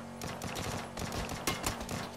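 Rapid gunfire bursts in a multiplayer shooter match right after a reload, dense fusillade of repeated shots with a couple of louder cracks near the end, no voices.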